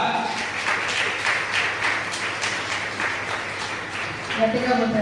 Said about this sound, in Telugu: అందరం ఒకసారి గట్టిగా చప్పట్లు కొడదాం